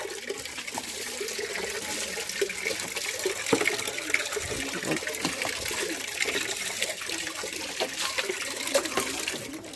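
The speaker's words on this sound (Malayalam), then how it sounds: "വെള്ളം ഒഴിച്ച് തുടങ്ങാം." Water pours steadily from a container onto plants, a continuous close splashing and trickling wash that runs the whole time without talk.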